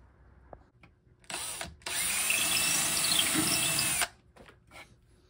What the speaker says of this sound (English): All right, got those holes drilled.